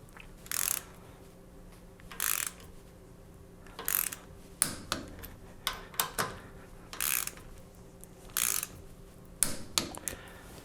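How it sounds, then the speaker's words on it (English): Clamps are tightened down on a machining fixture plate, holding a workpiece with toothed jaws. Several short ratcheting and clicking bursts come in uneven spurts with quiet gaps between, close by, with no talk. "tightening these down should clamp it"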